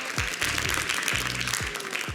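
A small comedy-show audience gives a short, thin round of clapping from only a handful of people, steady but modest, with a low hum and some thumping underneath.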